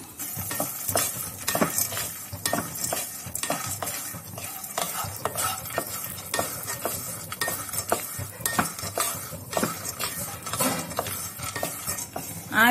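Chopped cashews, almonds, pistachios and walnuts roast in ghee over a low flame, with a soft constant sizzle under repeated scraping and clinking as a spoon stirs them around the pan.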